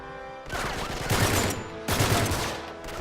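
Gunfire in the video game Uncharted 3: two loud bursts of rapid automatic fire, each lasting about a second, crackle up close over a low game background.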